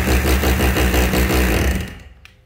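A 220V three-function rotary hammer drill with speed control and reverse runs loudly and steadily with a pulsing hammer rhythm, then winds down to a stop.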